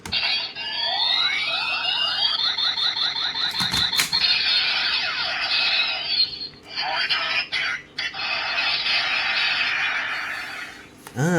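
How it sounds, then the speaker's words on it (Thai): A DX Kamen Rider Kabuto Zecter toy plays its Rider Kick effects: rising synthetic zaps and bright warbling tones over a buzzing hum, with a sharp hit partway through, loud and close. "เสียง Rider Kick นะฮะของเวอร์ชันแรกเนี่ย"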